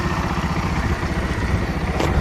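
A BS4 NS160 motorcycle converted to NS200 runs close by, its engine a loud, steady, rapid low thumping pulse with some mechanical clatter throughout.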